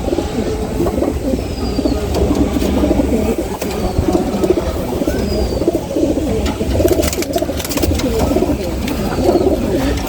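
Pigeons coo continuously and fairly close in a home loft, their soft repeated calls layered over a steady background rumble.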